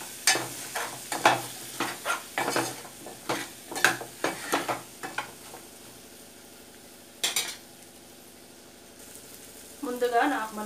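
Drumstick and tomato curry being stirred after a spoonful of chili powder, with a string of sharp spoon knocks and scrapes against the pot over a soft simmer, then a pause before more scraping near the end.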